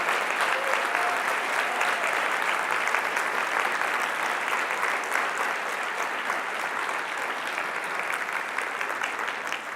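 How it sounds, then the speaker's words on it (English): Sustained audience applause for Olympic and Paralympic athletes, a dense, steady wash of many hands clapping that fills the hall evenly and stays loud without a break for the full stretch. "Let's give them a round of applause"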